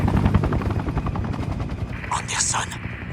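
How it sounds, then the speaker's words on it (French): An enemy helicopter in the video game Sniper Ghost Warrior 2 thumps steadily with rotor chop alongside game gunfire, and a voice speaks over the noise. "Hélico ennemi."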